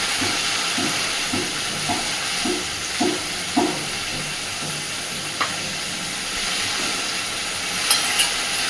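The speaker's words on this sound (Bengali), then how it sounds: "মশলাটা দিয়ে খুব সুন্দর করে কষাতে থাকবো, যতক্ষণ না মশলা থেকে পুরোপুরি কাঁচা গন্ধ চলে যাচ্ছে" Spice paste for a koi fish oil-chili curry sizzles steadily in a hot pan as it is stir-fried, with a soft continuous hiss and faint rhythmic scraping strokes, no talk.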